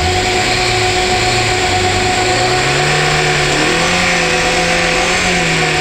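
A three-door Lada Niva 4x4 strains to climb on new studded tyres, its engine droning loud and close and slowly rising in pitch under load, a continuous labouring rev with no voices.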